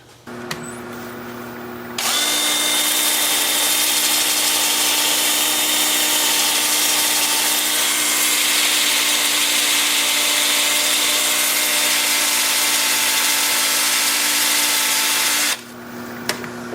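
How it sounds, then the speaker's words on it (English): A 2-inch disc sander at 150 grit works a maple burl bowl spinning in reverse on a wood lathe at 350 RPM, giving a loud, continuous whirring grind that starts abruptly and runs steadily for over ten seconds before cutting off. "I'm going to start sanding in reverse with the lathe at 350 RPM, 2-inch disc sander starting at 150 grit."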